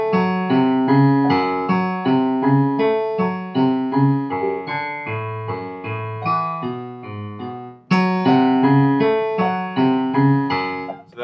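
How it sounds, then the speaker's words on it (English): A clean guitar plays a melodic line of plucked notes at a steady pace, with a fresh phrase starting near the end, no voices. "We have this guitar line that we learned"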